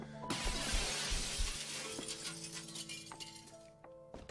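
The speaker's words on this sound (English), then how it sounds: "Glass is shattered elsewhere." Glass shatters loudly in The Sexy Brutale video game, a bright crash that rings out and then decays into lingering tinkling and tonal game ambience.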